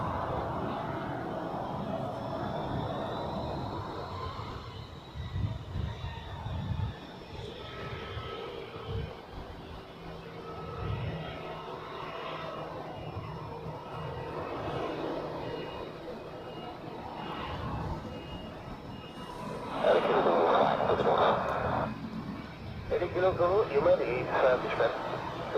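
An Air Baltic airliner taxiing at Zurich Airport, a steady broadband engine rumble with a louder surge near the end, running under continuous talk throughout.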